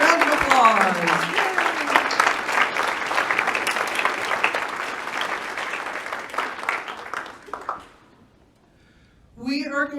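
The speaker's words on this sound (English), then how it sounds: "So thank everyone for their hard work and appreciation of everyone. Round of applause." An audience at a Canine Companions graduation ceremony, North Central Region, claps in a loud, sustained round of applause that tapers off after about seven seconds, falls briefly silent, then a voice begins speaking.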